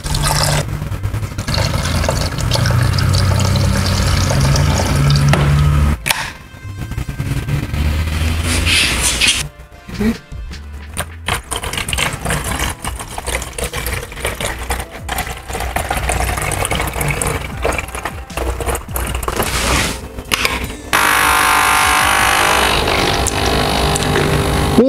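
Karcher SC3 and SC4 steam cleaners buzz and whir steadily as their pumps push water through the boiler and between tanks, a loud continuous mechanical drone with brief drops and clicks partway through.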